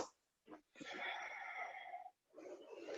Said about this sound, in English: I'm sorry for my sniffling. It's my allergies are out of control again